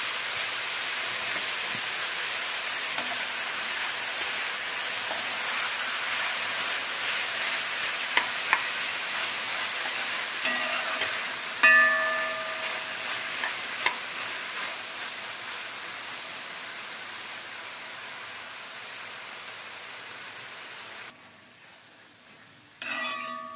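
Onions frying in a pan, softened over heat, give a steady close sizzle with faint stirring clicks, continuing alone for about twenty seconds before the noise drops sharply near the end.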